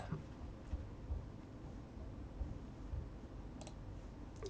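A few sharp mouse clicks while paging through setup dialogs for a QNAP TV872 XT storage unit, sparse and close over a low background hum.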